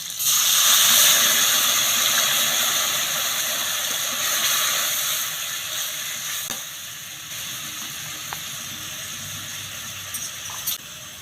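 Mustard paste with turmeric sizzling in hot oil for a Bengali hilsa fish mustard curry, a steady, bright frying hiss that starts loud and settles slightly softer over time, with no talk.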